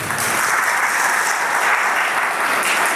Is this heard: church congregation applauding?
yes